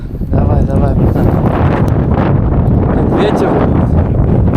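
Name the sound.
strong wind blowing on a boat while fishing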